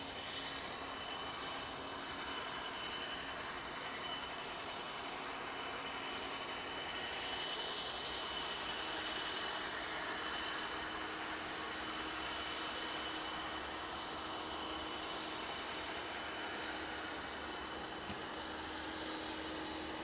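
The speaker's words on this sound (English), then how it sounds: "It's just winding that engine up" Aircraft engine spooling up at East Midlands Airport during a night of freighter operations, a steady, loud droning roar that holds for the whole stretch with a constant whine above it and no voices.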